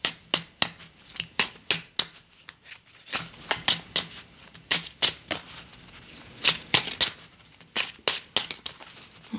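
Tarot cards are shuffled by hand in repeated quick riffles, sharp papery bursts in an uneven rhythm, close and crisp with short pauses between runs.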